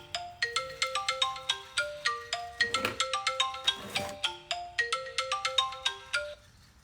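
A melodic phone ringtone for an incoming call from an unknown caller repeats its chiming note pattern steadily for about seven seconds, clear and fairly close, with a couple of brief noisy bursts partway through and no talking.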